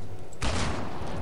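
A single sharp gunshot in the zombie video game Land of the Dead cracks out suddenly and loudly, followed by a brief noisy tail over a low background hum.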